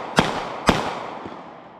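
Two sharp gunshots about half a second apart, with a fainter third pop later, from a Taurus Model 85 .38 Special revolver firing 158 grain lead round nose hand loads at an outdoor range at night.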